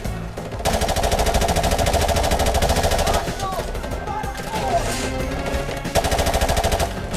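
Sustained automatic gunfire in Call of Duty 4: Modern Warfare, rapid bursts in dense runs that pause briefly and resume, loud and continuous against battlefield noise.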